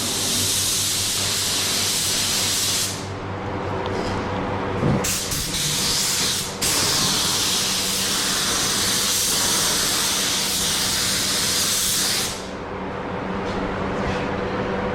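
A paint spray gun at 2 bar hisses steadily while it coats car trim on a Transit Courier van with a poorly atomising paint. The long, loud rush breaks off briefly a couple of times before it resumes.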